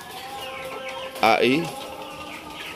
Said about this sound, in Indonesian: Ini untuk ayam indio gigante yang usia 3 bulan ya